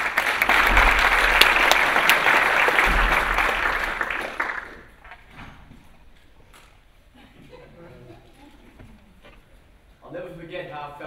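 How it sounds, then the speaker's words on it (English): Audience applause at a military veterans conference as a speaker is called to the stage: dense clapping for about four seconds, then it dies away and a voice begins speaking under faint room noise. "Round of applause, please."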